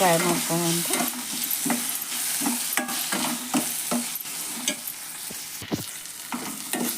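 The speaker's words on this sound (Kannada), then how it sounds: "ಟೊಮೆಟೊ ಹಾಕೋತೀನಿ ನೋಡ್ರಿ ಮತ್ತೆ ಫ್ರೈ ಮಾಡ್ಕೊಂತ" Chopped tomatoes hiss and sizzle loudly as they are stir-fried with sprouted peas in a pan, with frequent spatula scrapes and clanks against the metal.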